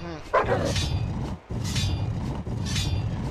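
A dog in the Tomb Raider video game barks in a cavern level, several loud, close barks spread across a few seconds over a low rumbling game soundscape.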